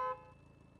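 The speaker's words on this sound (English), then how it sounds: "Lift honks his horn." A cartoon car honks its horn once, a short bright toot at the start that quickly fades into quiet low background music.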